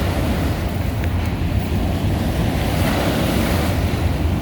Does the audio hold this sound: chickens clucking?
no